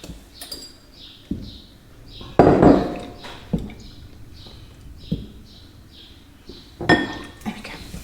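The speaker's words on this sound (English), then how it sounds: "I now need to whisk in my butter." A metal whisk beats butter into thickened lemon curd in a pot, giving scattered clinks and scraping knocks at an uneven pace, with faint bird chirps in the background.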